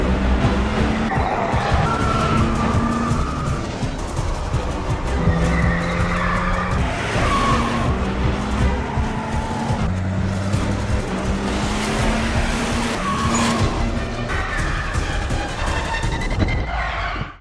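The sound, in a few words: Audi car reversing at full throttle with tires skidding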